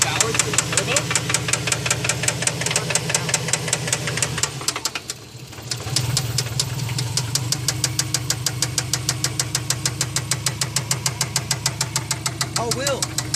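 A Subaru engine runs with a steady, rapid mechanical knock from an unknown fault, loud and close, the rhythmic ticking pausing briefly midway before resuming at an even pace.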